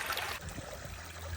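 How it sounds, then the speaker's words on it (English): Water trickles and sloshes steadily in a gold pan as material from a sluice is panned out, a soft continuous wash nearby with no talking. "time to pan that out"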